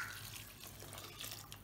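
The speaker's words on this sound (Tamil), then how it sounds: "இப்போ வந்து சுடுதண்ணி ஆட் பண்ணிக்கலாம்." Hot water poured from close by into a pressure cooker while a meal maker biryani is being prepared, a steady splashing gush that runs for under two seconds with no voices.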